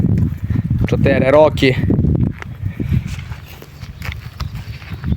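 Horse hooves clip-clop in a quick, uneven rhythm beneath a person talking, with a brief higher, whinny-like sound partway through; the horse is a mare in a village.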